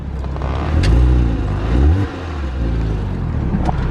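A 2007 Porsche Cayman engine turns over and revs up loudly, settling into a steady low idle hum that continues to the end.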